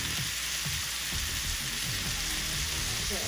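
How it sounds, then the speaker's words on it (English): Chicken and pineapple simmering in a covered pan, a steady soft sizzle and bubbling with faint crackles, continuous and close, with no voices. "I'll just simmer them for like a couple of minutes just to caramelize the pineapple"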